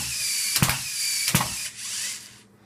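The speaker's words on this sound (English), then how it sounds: "So if y'all would like to see the current fire rate, potential fire rate of this gearbox with standard speed motors." An airsoft gearbox with standard speed motors fires in two short full-auto bursts, a steady whirring mechanical drone broken by sharp clacking spikes, recorded close and loud with no talking.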